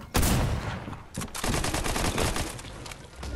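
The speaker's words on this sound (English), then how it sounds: "I'm getting shot from behind." Dense Fortnite gunfire bursts out in rapid, overlapping volleys, loud and close, with a short lull before the shooting resumes and continues steadily.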